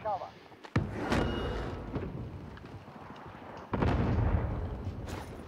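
Sniper gunfire in a video game: a couple of sharp, loud shot cracks with ringing tails, spaced a few seconds apart over low background game noise.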